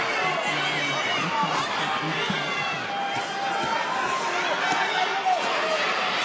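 A boxing arena crowd at a professional fight murmurs and chatters in a steady, dense roar, with a commentator's voice running over it.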